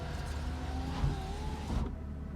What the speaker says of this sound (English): Really is an amazing mechanism on these. It's amazing just watching them go down and come back up the roofs.